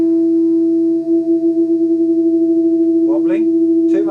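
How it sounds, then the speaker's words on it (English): A guitar's sixth string tuned slightly sharp against another string sustains as a steady low tone with slow beating wobble, followed by a couple of brief plucked notes near the end. "I'm going to tune the 6th string too high now"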